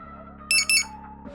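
Car alarm on a Dodge Demon 170, heard as two short, loud, high-pitched electronic chirps in quick succession over a low steady hum.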